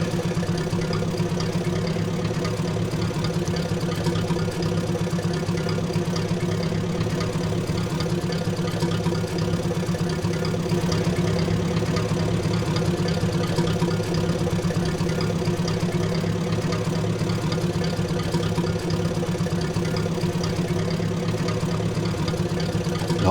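Tractor engine in the video game Nimitz, towing: a continuous, even idling drone with a low steady hum and faint knocking texture, unchanging in loudness throughout with no talk.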